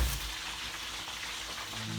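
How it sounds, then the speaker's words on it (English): Fish frying in a pan on a home stovetop gives a steady, continuous sizzle and crackle, close and moderately quiet, with no talking. "while the fish is frying"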